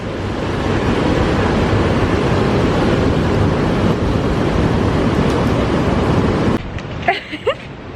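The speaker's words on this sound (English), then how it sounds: "Some good waves." Steady, loud roar of ocean surf at Dreamland beach in Bali, a continuous wash of breaking waves with wind buffeting the microphone, cutting out near the end to quieter background with a few brief faint sounds.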